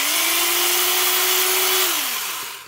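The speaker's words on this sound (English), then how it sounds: "I'll do a couple drill tests" A Powr-Kraft 3/8-inch mid-grip corded home utility drill runs steadily at speed with a constant motor whine, then winds down as the trigger is released near the end.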